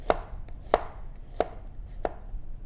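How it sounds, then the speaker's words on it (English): Four sharp, evenly spaced knife thuds on a cutting board as garlic is chopped, each a crisp close tap about two-thirds of a second apart over a quiet background, no voices. "We may also need some garlic. Same thing, we will just have to chop it up."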